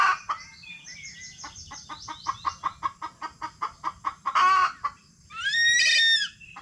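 Chickens clucking close by in a steady series of short pulses, followed by a louder squawk and a rooster's brief crow near the end.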